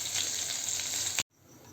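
Spices fry in oil in a pan, a bright continuous hiss and crackle that cuts off abruptly after about a second, leaving near silence.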